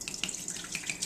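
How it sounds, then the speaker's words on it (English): Dandelion wine pours from a bottle through cheesecloth into a pot, a steady close-up liquid splash and trickle lasting about a second with no voices. "take a cheesecloth and put it over the mouth of the bottle, and then pour it into a pot"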